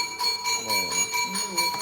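A temple bell struck to signal sweeping time at four o'clock rings with steady, sustained metallic tones while a person talks over it.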